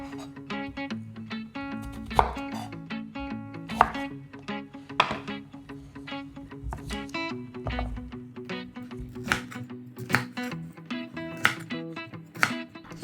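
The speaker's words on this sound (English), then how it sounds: "Chop the ginger to a size ideal for peeling." A knife chopping fresh ginger on a board, with a steady series of sharp, close thunks at an uneven pace and no talk.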